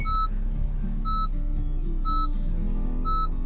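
Short electronic beeps from a 2017 Honda Jazz warning of a low remote key battery repeat at a steady pace, about one per second, clear and moderately loud over a low background hum.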